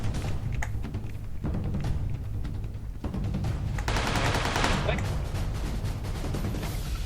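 Gunfire in PUBG Lite during a match with friends: rapid repeated shots and bursts crackle steadily throughout, with a heavier flurry midway, under excited talk from players.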